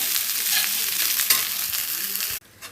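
Egg fried rice is roasted and stirred in a hot pan with a loud, close, hissing sizzle and scraping stir noises, and it cuts off abruptly near the end.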